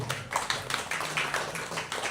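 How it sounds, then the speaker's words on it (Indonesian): An audience claps together at an Indonesian talk on energy, frequency and vibration, a steady patter of hand claps for about two seconds with no voices over it. "Kita tepuk tangan sekali lagi."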